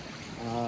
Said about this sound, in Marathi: शेतामधून पाणी चाललंय पूर्ण, इथून पाणी चाललंय